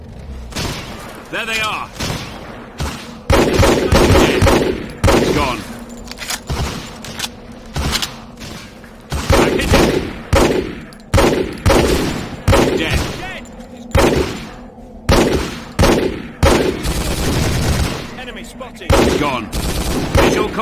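Rapid gunfire in Hidden & Dangerous 2, with repeated bursts of automatic shots and single cracks running throughout, loud and close, mixed with shouted voices.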